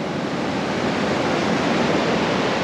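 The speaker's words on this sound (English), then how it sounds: "All that rock being crunched up, mixed with the powerful ocean, will make something amazing." Powerful ocean surf crashes against rocks at Torrey Pines beach in San Diego, a steady, loud, dense roar of churning water filling the whole stretch with no voices.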